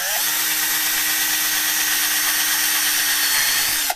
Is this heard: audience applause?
no